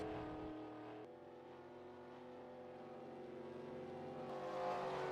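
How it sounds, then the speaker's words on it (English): Racing car engine in a video game at Indianapolis with a blown first gear, a steady droning hum with layered tones that shifts abruptly, heard close with no talking. "That's what a blown gear sounds like, folks."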